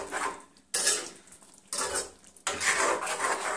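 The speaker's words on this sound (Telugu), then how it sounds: "జీలకర్ర పొడి మొత్తం ఒక్కసారి మొత్తం కలిపేసుకుందాం" Cumin powder stirred into a dried fish and radish curry in a pan, a spoon scraping and clinking against the metal in three bursts with short pauses between, close and fairly loud with no voices.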